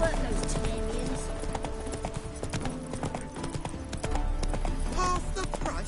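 Steady clip-clop of Roach the horse's hooves in The Witcher 3 runs throughout at an even trot, mixed under game music and voices talking.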